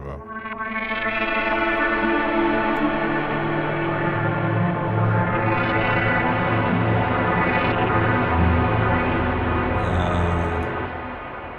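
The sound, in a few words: shimmer effect from an audio plugin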